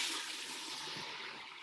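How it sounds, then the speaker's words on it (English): Grain neutral spirit pours into a bucket as a brief, steady rush of liquid, heard alone and fairly soft. "Go ahead and pour that in."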